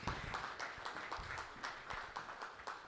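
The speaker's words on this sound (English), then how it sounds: "Let's give hands for Aveneni." Audience applause at a World Population Day commemoration, a steady wash of many hands clapping continuously at moderate distance for a few seconds.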